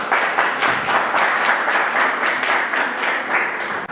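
An audience at a school debate applauds the first speaker with dense, steady clapping from many hands that holds for several seconds before tapering off.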